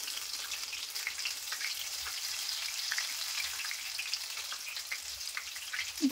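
Chili fritters (mirchi bajji) frying in hot oil, a steady soft sizzle and crackle running throughout at low level, with a faint knock near the end.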